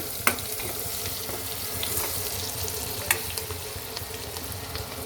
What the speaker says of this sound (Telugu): ఆనియన్ వేసుకున్నాం అండి. వేగాక కాస్త వేగాలి. ఇలా వేగాలండి.